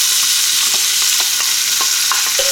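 Butter, chopped celery and onions sizzling in a hot pan with bacon, a loud continuous crackle broken by regular scrapes and taps as a utensil stirs the mix.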